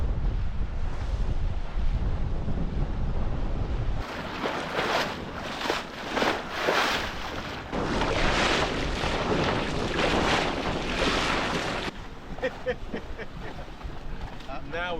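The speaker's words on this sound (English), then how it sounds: "Now we're tacking into the wind." Sailboat tacking into the wind on the Solent with the mainsail sheeted tight, heavy wind buffeting and rushing water throughout, the roar dropping and shifting partway through, with voices talking over it.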